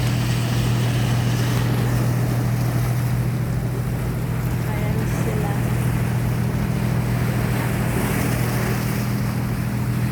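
Boats passing by the sea give a continuous low motor hum, blended with wind and the wash of waves along the shore, steady throughout at moderate loudness.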